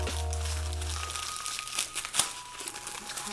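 Bubble wrap and foam packaging crinkle and rustle in a makeup unboxing, a close, irregular run of crackles and crunches after a brief low hum at the start.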